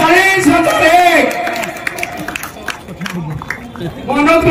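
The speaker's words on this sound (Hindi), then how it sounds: "गोटे ताली दो ताली जोरदार ताली दो" Audience clapping at a laddu auction for a 65 kg laddu during a Ganesh festival gathering, a loud broadband patter running under an announcer's amplified voice, with people talking throughout.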